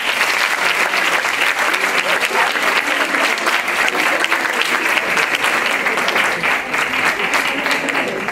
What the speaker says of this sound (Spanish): creo que queréis un fuerte aplauso a Paul Pons y su familia